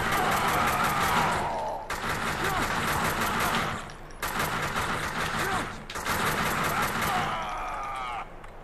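Bursts of gunfire in the video game Max Payne 2: The Fall of Max Payne, several loud sustained volleys separated by short pauses, with game noise and a voice in between.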